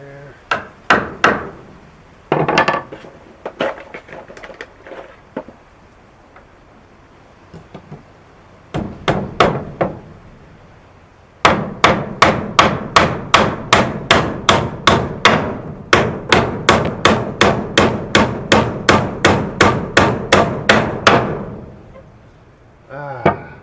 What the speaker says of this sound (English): when you hammer them, treated and painted nails